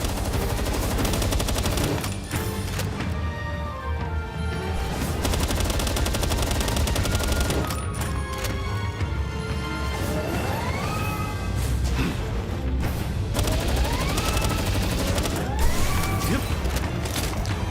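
Rapid gunfire rattles nearly nonstop while battling Anubis in Palworld, loud bursts of automatic shots layered over game effects and music, with brief lulls between volleys.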